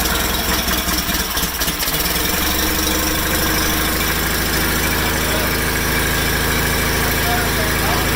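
A 1987 John Deere 318 garden tractor, a rebuilt project machine with a new starter, cranks briefly and then catches, settling into a steady, loud idle with a dense mechanical rumble close by.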